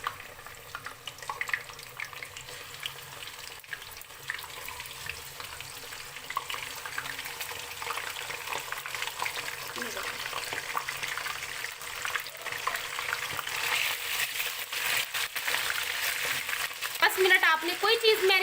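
Large chicken pieces for nihari fry in oil with a continuous crackling sizzle that grows a little louder toward the end, alongside faint kitchen clatter.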